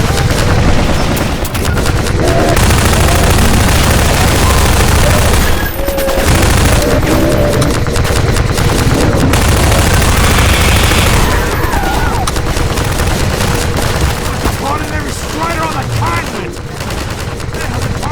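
Heavy, continuous gunfire and explosive booms fill a battle in the video game Half-Life 2: Episode Two, dense automatic shooting that barely lets up.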